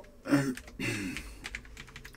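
Fingers tap on a French AZERTY computer keyboard in a quick irregular burst of clicks, close and fairly quiet.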